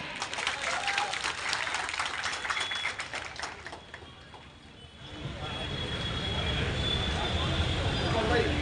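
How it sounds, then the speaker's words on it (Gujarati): A crowd applauds Gopal Italia at an outdoor political rally at Jhanda Chowk in Gandhidham, Kutch. Busy clapping fills the first half, then fades and gives way to a low, steady rumbling background noise. "ગોપાલભાઈના માનમાં એક જોરદાર તાળી થઈ જાય।"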